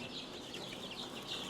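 A group of chickens, including Light Brahma mixes and Indio breeds, clucking softly in a continuous, busy murmur at low volume, fairly close, with no voices.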